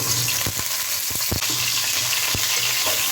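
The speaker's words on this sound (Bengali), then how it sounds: "এবার আমি ফুলকপিগুলো দিয়ে দেবো।" Cauliflower pieces fry in hot oil for a Kashmiri mixed vegetable dish, a continuous sizzling hiss broken by several sharp knocks and scrapes of a spoon stirring in the pan.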